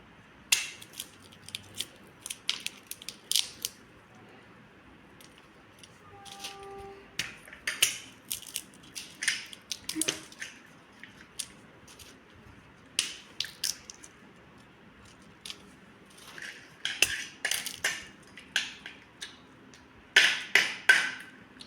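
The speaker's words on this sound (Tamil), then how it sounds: "பொடி அரைக்கிறதுக்கு கடலை உரிக்கிறோம்" Groundnut shells are peeled by hand, making a series of dry, close-up crisp cracks and snaps that come in irregular bursts with quiet gaps between them.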